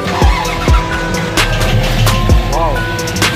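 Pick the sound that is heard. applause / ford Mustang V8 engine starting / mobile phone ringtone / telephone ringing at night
ford Mustang V8 engine starting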